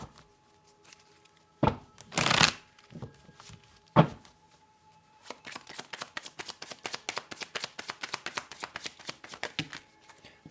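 Tarot cards being shuffled by hand: a couple of sharp riffles and a knock early on, then a long, steady run of soft rapid card flicks, close and alone without talk.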